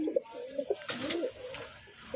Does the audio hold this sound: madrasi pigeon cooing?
yes